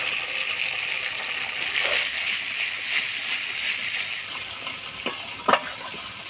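A paste of cashew, melon seed and poppy seed fries in spices with a steady, close hiss and sizzle, stirred now and then, ending in a couple of sharp scrapes against the pan.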